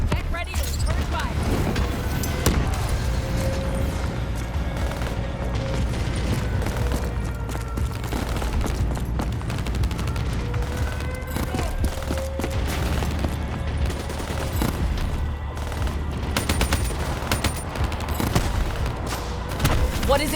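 Gunfire in the Call of Duty: Black Ops III campaign mission in Zürich, Switzerland: dense continuous fusillades and booms of combat run through the whole stretch, with voices talking over the battle throughout.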